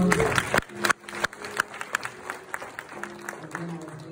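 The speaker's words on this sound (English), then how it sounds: "give her a round of applause" An audience at a funeral claps, a lively spread of individual hand claps rising and thinning over a few seconds, with a voice faintly mixed in.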